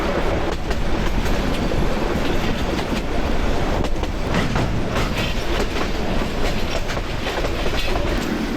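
The Rangpur Express pulls out of Bamandanga railway station and runs along the rails, a loud, continuous roar of wheels with rhythmic clickety-clack from the passing carriages, close by and with no voices over it.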